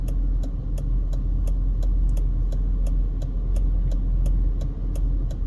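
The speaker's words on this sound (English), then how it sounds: "Got a lot of cross traffic here on both sides." Cars in cross traffic on both sides at a street in East Las Vegas near Cheyenne and Nellis Blvd, a steady mid-level engine and road rumble that keeps going without a break, with faint regular ticks above it and no voices.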